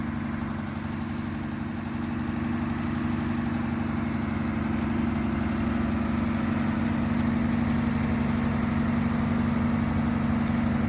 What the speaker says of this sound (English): As you can hear, I have the engine running.